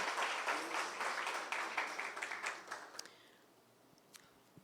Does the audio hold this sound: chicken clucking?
no